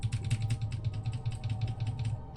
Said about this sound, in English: you can hear me spamming the keyboard